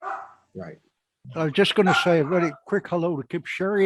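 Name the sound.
dogs barking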